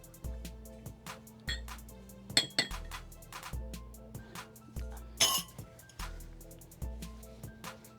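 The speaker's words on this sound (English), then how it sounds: "Mix ingredient number 2 and 3 together." Mixing liquid hand wash ingredients in a container brings a series of light clinks and taps from stirring, scattered over a steady, rhythmic music bed.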